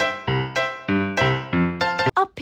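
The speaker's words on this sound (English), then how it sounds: "A piano." Piano notes are played alone in a quick sequence of about eight separate struck notes, each sustaining with rich harmonics, ending with a couple of short rapid notes.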